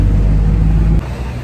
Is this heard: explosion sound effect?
no